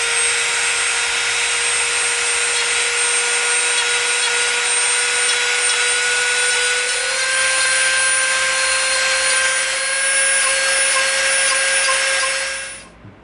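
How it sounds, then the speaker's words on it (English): A Dremel rotary tool scores feather lines into EVA foam for a Valkyrie helmet. It gives a close, steady high-pitched whine that holds for about twelve seconds, rises slightly in pitch, then cuts off abruptly. "we're going to use the sharp edge of our Dremel to put our little lines in it"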